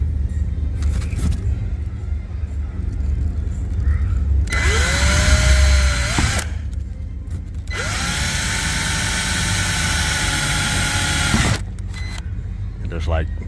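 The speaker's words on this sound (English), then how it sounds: "So I'm just gonna drill straight up." A power drill bores up through the bumper of a C7 Audi A6, whining in two long bursts with a pause between, near and loud, with faint handling noise and brief talk around it.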